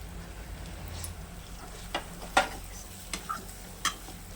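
Red chili powder, turmeric and garam masala are stirred in hot oil, giving a faint sizzle. A spatula scrapes and taps the pan a few times, sparse and close.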